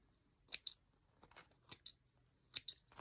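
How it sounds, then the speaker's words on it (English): Embroidery snips cut threads between stitched letters on a fringed ammo bag, with several crisp, close, quiet snips coming in small pairs and separated by pauses. "Snip the strings off, and then we're going to tear off this stabilizer"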